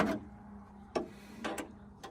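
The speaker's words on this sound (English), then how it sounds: "So now we get to do the fun part of torquing everything down." Wrench clicks while torquing bolts on a 1984-1996 Jeep XJ Cherokee window regulator, with three or four sharp, isolated ticks spaced unevenly over a quiet background.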